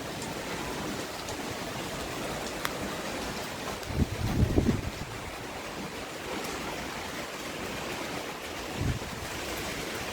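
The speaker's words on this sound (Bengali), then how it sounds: "আবার হাওয়াটা জোরে ছাড়লো।" Strong wind gusting during Cyclone Remal, a constant rushing roar with a louder surge midway and a smaller one near the end, heard alone without speech.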